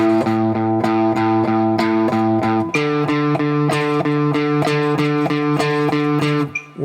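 An electric guitar with distortion and effects is picked steadily in eighth-note triplets, three even picks per beat, with a chord change partway through. The playing is loud and close and comes without talk.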